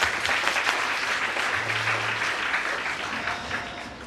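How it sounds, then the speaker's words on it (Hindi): Indoor audience at a Hindi motivational talk applauding, dense steady clapping from many hands, loud and continuous for about four seconds and easing slightly toward the end. "बजाओ ताली तेंदुलकर के लिए।"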